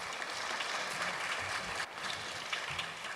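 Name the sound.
applause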